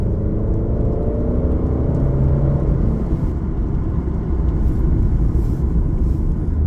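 Alfa Giulia on a rain-soaked race track, engine note falling as it brakes hard, a steady close whirring rumble that drops in pitch and settles into a wet, noisy roar.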